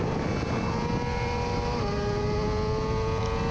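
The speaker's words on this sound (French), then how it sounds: "je vous ai dit que la nouvelle S1000RR marchait très fort" A 2020 BMW S1000RR at speed on the Mugello circuit, a loud, sustained, high-revving engine drone that holds steady and shifts pitch slightly downward midway, heard close with no talk.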